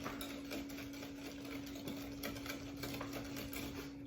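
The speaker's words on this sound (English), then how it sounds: "and give it a whisk." Dry ingredients for a cardamom apple cake, including flour, baking soda and ground cardamom, are whisked in a bowl. A fast, steady ticking scrape runs close and even, without a break and with no talk over it.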